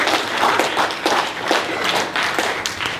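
A crowd at a community gathering on police terrorism claps hands together in steady, fairly loud applause lasting several seconds, with no talking over it.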